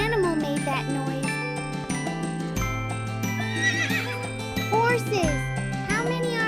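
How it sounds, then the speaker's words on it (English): A horse neighing and whinnying among farm sounds, with clip-clop hooves and jingling bells under light music, fairly loud and close, and a voice chiming in. "Horses."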